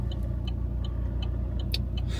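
Low, steady engine and road rumble inside a moving car, with faint light ticks and clicks over the continuous drone.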